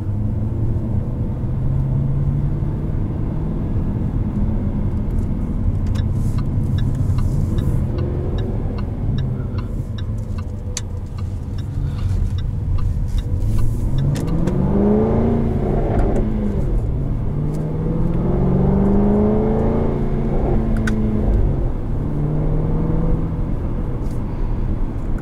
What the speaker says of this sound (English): Just the sound alone of this thing.